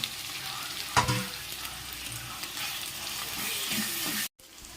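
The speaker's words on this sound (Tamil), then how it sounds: "வெங்காயத்தை போட்டு நல்லா ஃப்ரை பண்ணிக்கணும்." Onions fry in a pan for homemade pepper chicken, giving a quiet, steady sizzle with a few soft stirring scrapes and clinks nearby, with no talk over it.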